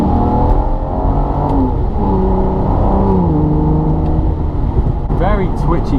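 A 2005 Aston Martin DB9 in sport mode accelerating, its engine note climbing through the gears with a rising, rasping drone heard from inside the cabin while someone talks over it.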